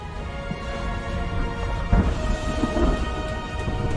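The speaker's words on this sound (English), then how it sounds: "Found the rain." Rain and rolling thunder in the PC strategy game A Year Of Rain: a steady wash of rainfall under low, continuous rumbling, with a heavier thunder swell near the middle. No voices.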